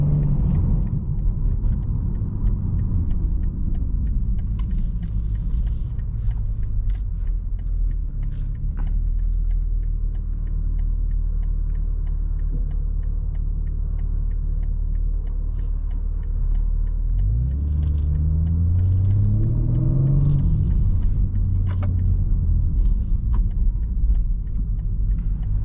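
A 2024 BMW M3 Competition xDrive sedan is driven, its engine and road noise giving a steady low rumble from inside the cabin and rising as the car accelerates near the end.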